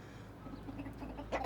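Village chickens cluck softly inside a rain-muddied open coop, a few faint calls over a steady low background, with a louder burst of clucking near the end.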